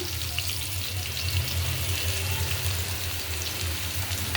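Onion and garlic paste fries in hot oil in a karahi wok for a boal fish bhuna, giving a steady close sizzle with a fine crackle. It runs unbroken and even throughout, with no one speaking.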